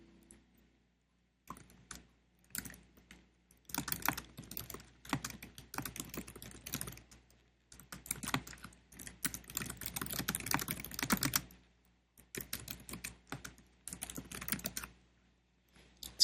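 Bursts of typing on a computer keyboard, brisk clattering keystrokes in runs separated by short pauses, close and moderately loud with no talking, while setting up a Microsoft Windows NT 4.0 installation.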